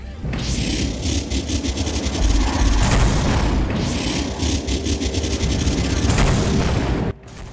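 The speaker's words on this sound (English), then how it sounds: "The Husk cannon uses the same, yet a bit cleaned up model as the one seen on the Husk itself, including" Heavy booming blasts from the Husk cannon in Killing Floor, loud and roaring, fired a few times in succession with a sudden cutoff at the end.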